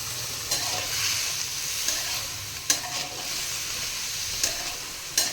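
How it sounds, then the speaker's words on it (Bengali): Cauliflower, carrots and beans frying in hot oil with a little salt for a winter vegetable dal, a steady close sizzle with occasional stirring scrapes throughout. "তেল গরম হয়ে গেলে ওর মধ্যে দিয়ে দেব ফুলকপি, গাজর আর বিনস। সামান্য লবণ দিয়ে হালকা করে ভেজে নেব।"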